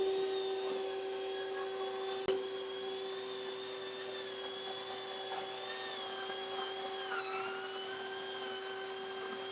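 Sanding a dried drywall seam gives a steady, close, high whining drone that holds throughout with slight wavering, with a brief knock near the start.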